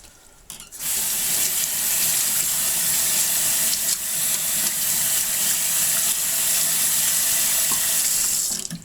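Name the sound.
soaking gas mask harness in water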